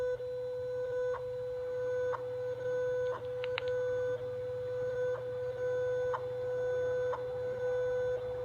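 Time signal from the WWV station played through the speakerphone of an Iridium Extreme 9575 satellite phone: a steady tone with a short tick pulse about once a second and a brief burst of chirps, all under a constant hum.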